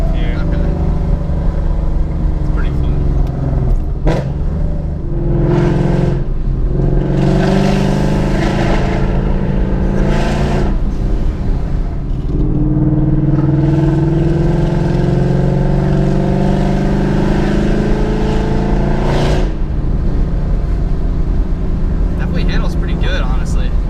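A modded 2015 Ford Mustang GT on air suspension cruises along a road, its steady engine rumble swelling at times. People talk inside the car over the noise throughout.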